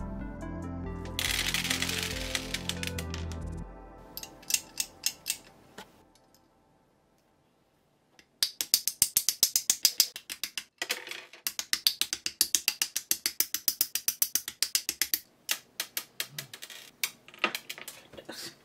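A wire armature for a clay art doll is handled close up: a rattling burst first, then after a short silence a long series of sharp ratcheting clicks in quick irregular bursts.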